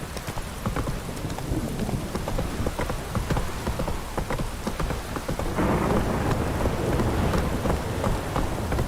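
A heavy downpour in the video game Witcher 3 hisses loudly and steadily, with rumbling thunder beneath it and the rain intensifying toward the end.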